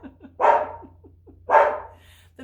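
Dogs bark at a mailman at the door, two loud, close barks about a second apart, with softer muffled noises between them.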